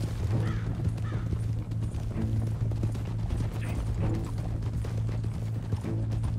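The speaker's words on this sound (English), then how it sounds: "Long horse ride." Horse hooves clip-clop at a steady walking rhythm during a long ride in Red Dead Redemption 2, mixed with continuous game music and ambient sound, with no talking.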